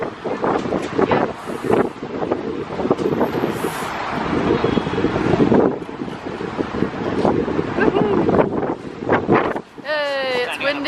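Strong gusts buffet the microphone outdoors on a cold, rainy day in Paris, roaring steadily with rises and dips while people talk nearby.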